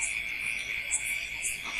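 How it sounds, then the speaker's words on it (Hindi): Dense night chorus of frogs croaking nonstop in a steady, shrill, pulsing drone, fairly loud and close with no pauses. "यहाँ पर आप शोर चेक करें कितना ज्यादा है इन मेंढकों का।"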